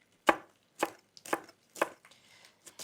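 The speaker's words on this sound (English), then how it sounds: "So finely slice them." A knife finely slices jalapenos on a chopping board, six crisp evenly spaced cuts alone with short pauses between them.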